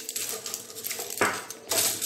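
Tramontina forks and knives are handled and set down, giving quick metallic clinks and rattles against a hard surface, close up and irregular, with a louder clatter near the end.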